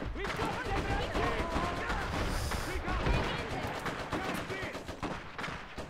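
Heavy machine gun fire rattles in the real-time strategy game Iron Harvest amid a chaotic battle, rapid repeated shots mixed with explosions and shouting voices throughout.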